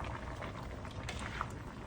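Cauliflower and broccoli steam in a pot for homemade chop suey, giving off a steady bubbling, hissing simmer with small pops and gurgles, close and fairly quiet.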